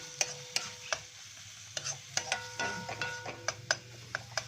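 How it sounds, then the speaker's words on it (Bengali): Chili-powder spice masala sautéing in a pan for egg curry, a quiet sizzle broken by sharp clicks and scrapes of a spoon stirring against the pan at irregular intervals. "এবারে মশলাটাকে ভালো করে কষিয়ে নেব।"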